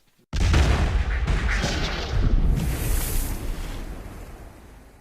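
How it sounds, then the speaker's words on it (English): Ship's cannons fire in a single loud, close boom with a sharp onset, then a long rumbling roll that slowly fades over several seconds with no voices. "you hear a loud explosion as cannons are fired"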